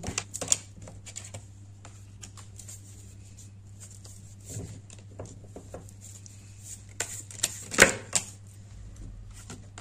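Tarot cards drawn and shuffled for a card reading, a run of soft papery flicks and taps close by, with a few sharper snaps and a steady low hum underneath, no voices.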